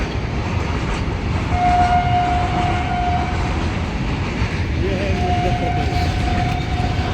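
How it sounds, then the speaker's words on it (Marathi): A train rumbles past close by with a steady, loud roar and wheel noise on the rails throughout. Two long, faint horn tones sound in the middle. "ट्रेन."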